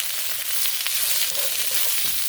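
Beef and peppers frying in a hot non-carbon-steel wok for Chinese takeout-style pepper beef, a steady loud sizzle with occasional scraping stirs, close up and without speech.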